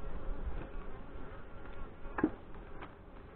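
Honey bees buzzing during a beehive inspection, a steady low hum of many insects close by, with faint handling knocks and clicks over it.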